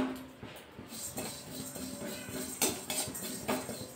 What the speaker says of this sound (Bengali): যে মশলাগুলো দেখিয়েছিলাম সেইগুলো সব কড়াইতে দিয়ে দেবো।